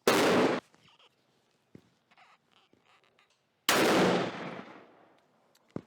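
A rifle fitted with a Trijicon scope fires at a target during zeroing, with two loud, sharp shots a few seconds apart. Each blast ends in a long fading echo, with faint clicks and shuffling in between.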